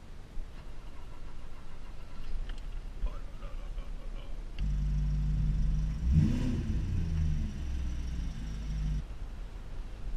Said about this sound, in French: Allez, démarrage à froid.